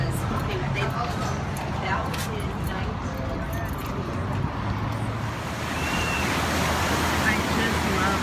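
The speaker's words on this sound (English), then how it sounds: "I love just listening to the waves." Ocean waves wash steadily onto a beach in a continuous broad roar with gentle surges, mixed with some wind noise on the microphone.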